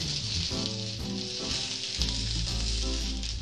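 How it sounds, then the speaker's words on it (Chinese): Shanghai-style big wontons filled with watercress and pork pan-fry in a little water, giving a steady close hiss and crackle of sizzling, with background music playing underneath. "当你听到滋滋滋声音的时候，你就可以关火"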